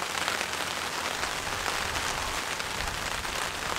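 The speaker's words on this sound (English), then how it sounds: "So first time having rain on the tarp" Steady rain patters on a tarp stretched over a WEKA 2 tent at a backyard camp, a dense even hiss that holds for the whole stretch with no voices.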